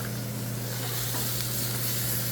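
Turmeric and onion sizzling in hot oil for pithla: a continuous, even frying hiss with a low steady hum beneath it and no voices.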